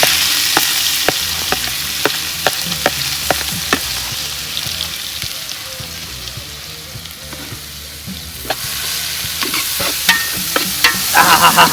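Green chillies and onion, with garlic, sizzle in hot tempering oil for a Gujarati tempered flatbread. A dense crackling fry sits close by, and sharp ticks and pops from the spatula come now and then before the sizzle swells near the end.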